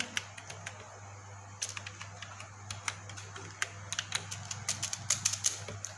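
Irregular keystrokes on a computer keyboard as a stock item name is typed into Tally.ERP9, quiet, close, sparse clicks that quicken toward the end over a low steady hum.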